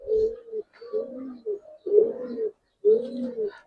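Giribaz pigeons coo in a run of soft, throaty calls close by, several rolling phrases separated by brief pauses, with no talk over them.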